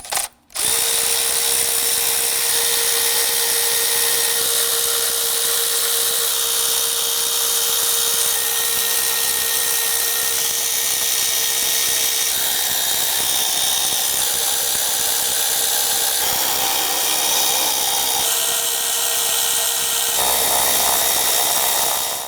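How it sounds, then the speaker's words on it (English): Power tool with a 10mm socket running continuously to loosen and remove valve cover bolts on a 2010-2019 Ford Taurus 3.5L, a loud sustained whirring drone close by with slight shifts in pitch. "I'm going to use a 10mm socket to go ahead, loosen and remove these here"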